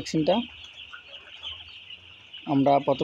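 Broiler chickens cluck close by in short bursts at the start and end, with a faint steady hum in between.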